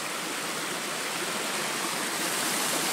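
Steady, broadband rushing of water pouring from a pipe running down a mountainside, a continuous even hiss close by with no talk.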